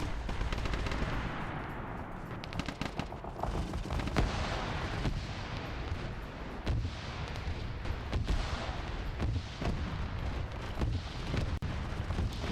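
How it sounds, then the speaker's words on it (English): Gunfire rattles through a Warhammer 40K mission in Arma, with dense bursts of automatic weapons and heavy booming shots layered close and loud, continuing without a break for over twelve seconds. "they're taking fire from the rear right here."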